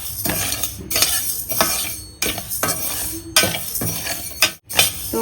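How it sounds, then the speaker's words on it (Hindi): Fenugreek seeds being stirred and dry-roasted in a pan at home, with a spoon scraping and clinking against the metal in steady repeated strokes, close and fairly loud, with short pauses between bursts. "देखो अब इसको मेथी को भूनना है, देखो अच्छा भूनना है"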